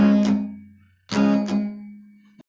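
Two strummed guitar barre chords ring out, each followed by a quick choked upstroke that mutes the strings as fretting pressure releases; a brief click ends it.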